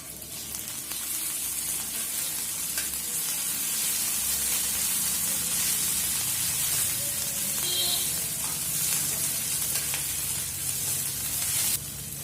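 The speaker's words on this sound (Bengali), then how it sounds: "পেঁয়াজ কুচি, রসুন কুচিগুলো একটু ভেজে নিতে হবে। অল্প একটু ভাজা হয়ে যাওয়ার পর আদা বাটা দিয়ে দিলাম।" Chopped onion and garlic with ginger paste frying in a pan for masoor dal tarka; a steady, close hissing sizzle that runs unbroken for the whole stretch, with faint occasional stirring.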